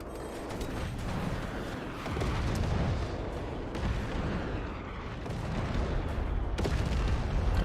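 Heavy weapon fire and explosions in Forts, a naval base-building RTS video game: a sustained, dense rumble of booms and mechanical clatter that swells in waves, loud and continuous, with no voices.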